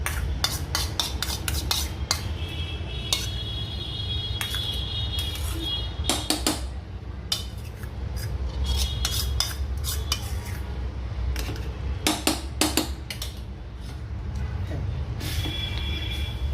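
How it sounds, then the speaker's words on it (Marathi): A spoon scrapes and clinks against a metal pot in irregular bursts while a raw mango preserve mixture is stirred, with a low steady hum underneath. "छान मिक्स करून घेऊया ह्याच्यात"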